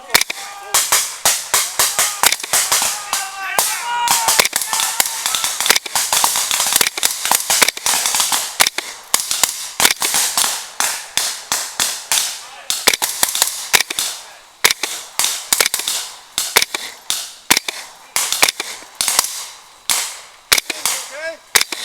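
Blank rounds crack out during a military field training exercise in rapid, irregular volleys that go on throughout, loud and close, with shouted voices mixed in among the shots.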